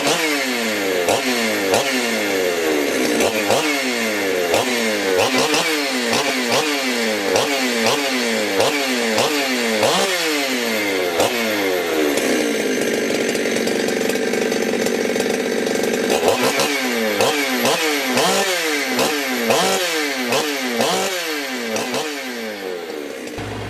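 A ported Jonsered CS2171 big bore chainsaw with a 272XP piston runs loud and close. It rips through repeated hard revs and drops back, with a brief steadier stretch in the middle.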